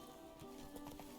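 Horse hooves clip-clop on the ground in The Witcher 3, a faint, quick run of uneven hoofbeats heard at low level over steady background ambience.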